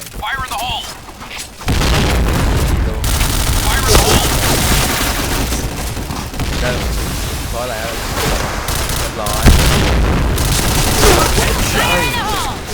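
A Kriss Vector airsoft gun, a Sakura model, fires repeated rapid bursts, loud and close, with mechanical clacks between volleys while people talk and exclaim over the shooting.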